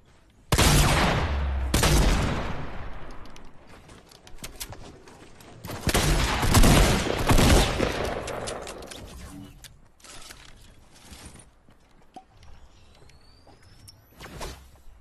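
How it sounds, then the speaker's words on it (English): Loud, booming blasts of a heavy shotgun in a video game, a big shot near the start, another soon after and a dense burst mid-clip, each trailing into fading noise, with quieter scattered game effects between. "the heavy shotgun is actually putting in work for me right now"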